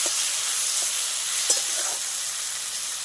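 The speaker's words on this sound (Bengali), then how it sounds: "আলু আর পেঁয়াজ টমেটো কাঁচা লঙ্কা যা দিয়েছি সুন্দর করে ভেজে নেব" Potato, onion, tomato and green chilli fry in hot oil in a pan, giving a continuous loud close sizzle with a few small pops and scrapes of stirring.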